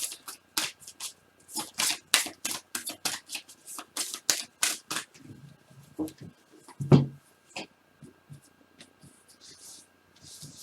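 Tarot cards are shuffled close up, a rapid series of crisp riffling slaps and flicks that slows into softer, scattered shuffles and taps toward the end.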